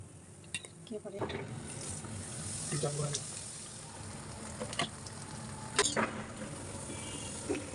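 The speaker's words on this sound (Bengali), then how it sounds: "এই পিঠাটা আমার ভাজা হয়ে গেছে" Pitha frying in oil for Eid gives a soft, steady sizzle at low volume, broken by a few sharp clinks of a utensil against the pan.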